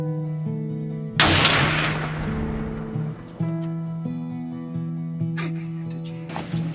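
A single loud rifle shot cracks during a deer hunt in a food plot, its boom rolling away over a steady low hum, with softer clicks and thumps following later.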